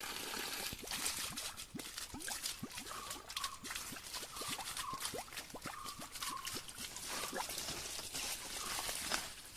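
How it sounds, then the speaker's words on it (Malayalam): Cold, clear water runs forcefully from a pipe, a faint continuous splashing and trickling with bubbling drips, steady throughout without speech. "അത്യാവശ്യം നല്ല ഫോഴ്സ് തന്നെയല്ലേ വെള്ളം വരുന്നത്."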